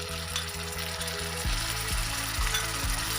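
Green chili paste hits a hot pan with ground spices and ginger, sizzling steadily and close, with a soft stirring rhythm over a low steady hum.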